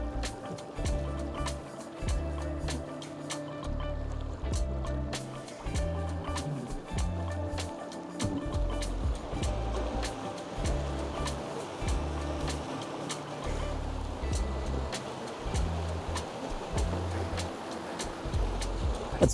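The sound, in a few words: ePropulsion Spirit 2 electric outboard boat motor at full throttle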